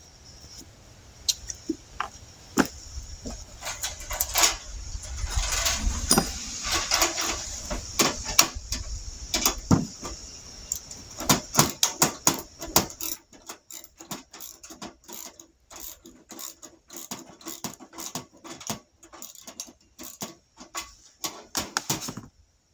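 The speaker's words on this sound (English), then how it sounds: "I'm going to use a ratchet. It'll make it go a lot quicker." A ratchet tightening bolts while assembling a heavy-duty steel tow-behind ATV dump cart, with rapid close clicking bursts that come in quick runs, denser and louder early and then sparser, sharp clicks.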